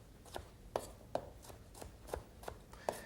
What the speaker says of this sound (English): all you do is cut it in long strips